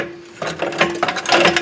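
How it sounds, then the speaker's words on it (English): Under a Camaro being fitted with rear adjustable coilovers, a car jack is pumped to lift it, giving a close series of short creaking, ratcheting strokes with a steady squeaky tone running through them. "I'm just gonna jack this up so the bolt can come out easier."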